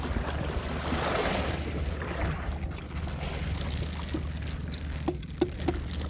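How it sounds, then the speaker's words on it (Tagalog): Small waves lap softly against something nearby over a low rumbling background, with a few light splashes toward the end. "Parang malilit na alon."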